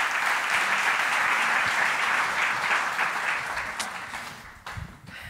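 Sustained applause from a conference audience, broad and steady at first, then thinning toward the end, where a few scattered claps and small hall noises remain.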